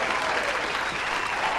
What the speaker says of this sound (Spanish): el público aplaude, el público está increíble